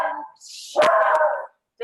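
A Westie and Jack Russell mix dog growls and yowls at someone outside a window, a short loud howling vocalization close by, with a brief gap and another cry beginning at the end.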